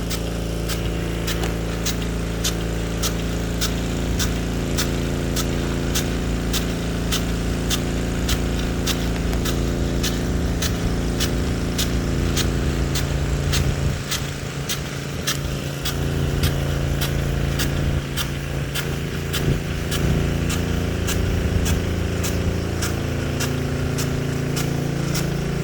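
A Rainbird SR103 slow-reverse rain gun with a .70-inch nozzle, fed by two pumps, runs loud and steady with a rapid regular ticking over a constant pump drone and rushing water spray.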